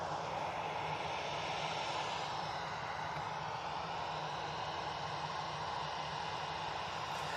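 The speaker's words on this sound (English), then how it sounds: "Next in, we have the Finnair coming in from Helsinki. It's an A319." A Finnair Airbus A319 arriving from Helsinki at Manchester Airport, its engines making a steady, even roar that holds at a constant level from start to finish.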